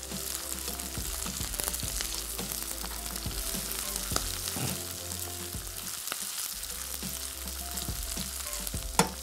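Green onion frying with onion in hot oil, a steady close sizzle and crackle running throughout, with occasional sharper pops and spatters over the continuous hiss.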